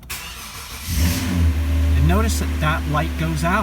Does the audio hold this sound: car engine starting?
yes